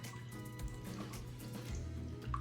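Liquid from a can of salmon being poured off, a quiet trickle with soft drips and splashes that runs for a couple of seconds with no talking.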